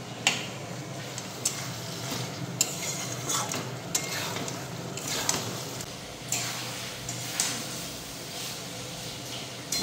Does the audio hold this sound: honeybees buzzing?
no